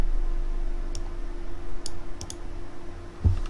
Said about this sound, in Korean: 다시 탭키를 누르고요